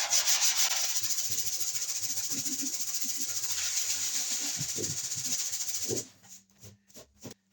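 A sanding block scrubs steadily back and forth over body filler on a hail-dented car panel, giving a continuous rasping hiss for about six seconds before it stops, leaving only a few faint taps and rubs.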